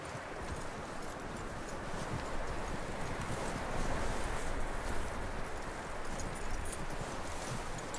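Horse hooves clip-clop in a steady, busy rhythm over a dense, hissy background in Red Dead Redemption 2, fairly faint and without any voices.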